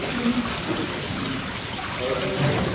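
Crystal clear water pouring down a small waterfall in a misty garden oasis in Singapore, heard as a steady, close, broadband rush and splash that carries on without a break.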